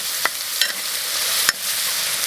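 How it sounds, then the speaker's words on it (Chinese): Garlic stir-frying in hot oil in a pot, a steady close sizzle with a few sharp clinks of a utensil against the pot. "油温烧热，下入蒜，"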